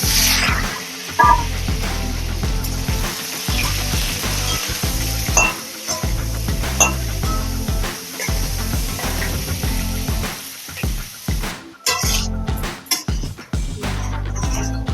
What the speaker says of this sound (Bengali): এখন আমি দিয়ে দিব সেদ্ধ করা আলু একটু ভেজে নিব